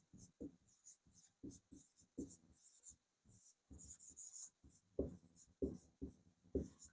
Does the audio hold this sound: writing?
yes